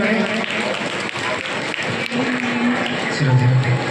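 A crowd at a Bhagwat religious gathering in Gwalior claps loudly and steadily throughout, dense applause filling the space, with a voice faintly audible near the end.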